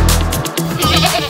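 A goat being bathed and then set out to dry bleats loudly and close by in a single drawn-out, wavering cry, with no talk over it.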